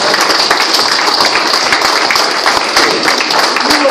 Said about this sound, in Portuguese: É uma salva de palmas.